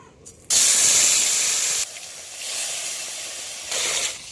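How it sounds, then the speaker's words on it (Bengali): Fish frying in hot mustard oil in a wok, a loud sudden hiss bursting in as the fish hits the oil, then a sustained sizzle that eases and swells again, with no talking. "এবার আমি একে মাছ ভিজে নেব।"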